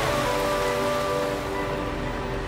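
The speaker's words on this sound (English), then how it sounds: "The raindrops sound very nice." Raindrops falling in a cartoon scene, a steady wash of rain with faint sustained musical tones beneath, even and continuous throughout with no talk.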